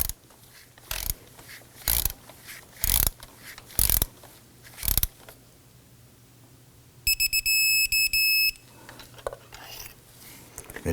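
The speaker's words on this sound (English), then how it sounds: "we'll get our socket and our extension in there and snug it down" A ratchet socket wrench with an extension snugs down a spark plug on a 2018-2024 Toyota Camry 2.5L four-cylinder, giving a sharp, close clicking burst that runs for over a second, set between loud separate clunks, with no talk.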